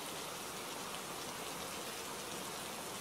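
Rain falls in a steady, even hiss with no change in intensity and no voices.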